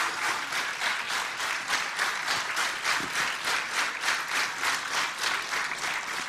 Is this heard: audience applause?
yes